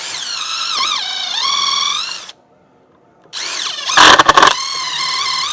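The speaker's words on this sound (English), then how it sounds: "Drill 2 holes." A DeWALT brushless cordless drill whines loudly as it bores two holes, the first a sustained run with a dip in pitch, then a pause of silence before a second run broken by rattling, juddering bursts.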